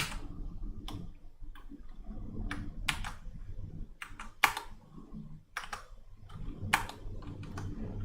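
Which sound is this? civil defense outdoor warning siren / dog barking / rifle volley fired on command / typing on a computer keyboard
typing on a computer keyboard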